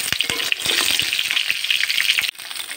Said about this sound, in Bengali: পটলটা ভাজছি।